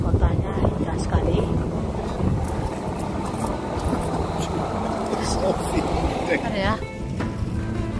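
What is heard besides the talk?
wind and rain in a city street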